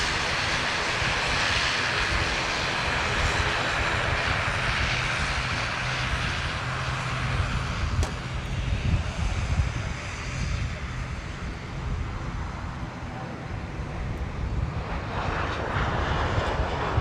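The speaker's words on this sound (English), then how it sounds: "Just goes to show how loud the ATRs are." ATR turboprop engines roar steadily at close range as the aircraft taxis past at Manchester Airport, a loud continuous drone with a faint voice underneath.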